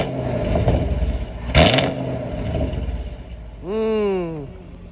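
A Chevrolet Camaro 2SS with its stock exhaust and the valve open gives a sharp, loud rev that swells and falls, then a second rev climbs and drops, with an idling rumble between them and a short burst of noise.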